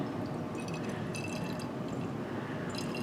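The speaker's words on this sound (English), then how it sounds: "So I've got what came over in the receiving flask and I'm going to pour it right in." Liquid distillate from a receiving flask is poured into a separatory funnel during purification of 1-bromobutane, a steady close pouring and dripping with faint glassy clinks throughout.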